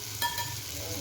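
Noodles frying in a pan as soy sauce is poured in, a close, steady sizzle with a short louder crackle and the scrape of stirring, no voices.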